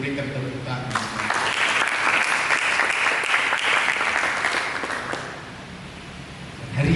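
Sustained applause from a church congregation during a sermon, a dense wash of clapping that swells and holds for several seconds before thinning out, with a voice returning at the end.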